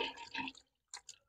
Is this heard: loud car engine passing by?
no